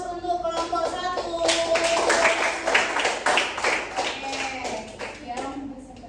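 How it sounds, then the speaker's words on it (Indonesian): Group applause at a formal gathering, many hands clapping together in a dense, steady burst that swells and then gradually thins out, with voices faintly mixed in. "Beri aplaus untuk kelompok 1"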